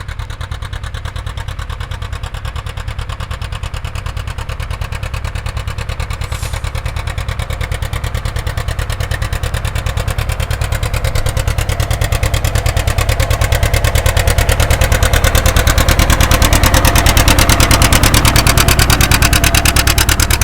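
A vintage John Deere AR farm tractor pulling a four-bottom plow chugs with a steady, rapid putt-putt rhythm, growing louder as it draws nearer and rumbles past.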